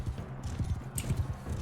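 Horses galloping in a nighttime jousting tournament in a video game, rapid heavy hoofbeats thudding in quick rhythm, close and loud.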